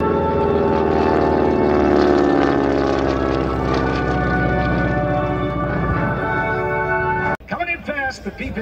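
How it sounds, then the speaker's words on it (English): A P-51 Mustang warplane makes a fast pass at the Selfridge 2022 air show. Its propeller engine gives a loud, steady drone with pitch shifting as it passes, under a commentator's voice, then cuts off abruptly near the end. "Coming in fast, the P-51."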